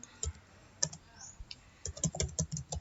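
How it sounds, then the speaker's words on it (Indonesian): Typing on a computer keyboard: faint, irregular keystroke clicks that come in scattered taps and then a quicker run near the end, with no voices. "Bapak Ibu guru bisa ngetik apa saja materi yang ingin disampaikan"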